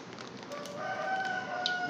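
A rooster crows somewhere in the distance, a thin drawn-out call over faint background noise.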